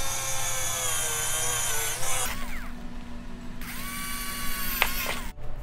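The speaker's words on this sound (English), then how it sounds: "I then had to drill a hole in the side of the fixture to admit the adapter." A power drill whines at high pitch, its motor revving up and down, stopping briefly and starting again, close by, as it bores a hole through the side of an LED aquarium light fixture.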